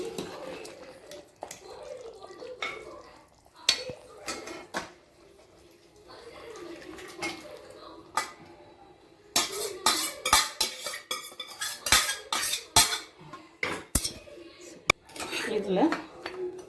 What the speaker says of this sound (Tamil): இப்போ இந்த மட்டனை நம்ம ஒரு பாத்திரத்துக்கு மாற்றிடலாம்.